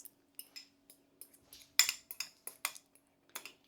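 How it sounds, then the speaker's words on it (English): Mashed banana being scraped and tipped from a bowl into banana pudding mix, a quiet close series of irregular spoon-on-bowl clinks and scrapes spread across the moment, with a faint steady hum underneath. "So now I'm going to throw it into the pudding mix."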